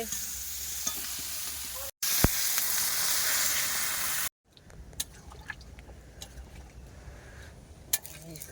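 Chicken pieces fry in a pan over a village coal fire for a Bengali-style chicken curry, giving a loud, steady close hiss with two abrupt breaks, then a softer crackle punctuated by scattered clinks and scrapes of stirring.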